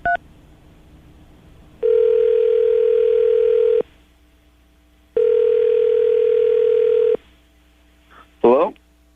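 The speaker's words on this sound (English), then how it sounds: "I'm going to call him right now, get him on the phone" A telephone call is dialed and rings out. A short tone is followed by two long, steady ringback tones with a pause between them, heard close and clear, and a voice answers at the end.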